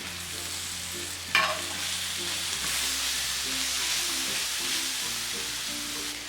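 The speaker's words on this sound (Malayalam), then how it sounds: "അഞ്ച് പച്ചമുളക് കീറിയത് ഇതിലിട്ട് വഴറ്റി കൊടുക്കാം." Five slit green chillies, two thick ones and three ordinary, sizzle steadily in oil in a pan while being stirred, a soft continuous frying hiss with a brief clatter early on and a low musical hum underneath.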